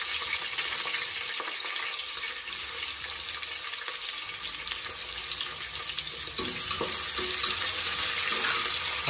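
Onion and bay leaf fry in a pan for a mutton dish, a loud, steady crackling sizzle that holds throughout and grows a bit denser toward the end, with no voices.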